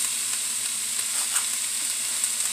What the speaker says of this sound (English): I'm going to add some more bacon bits.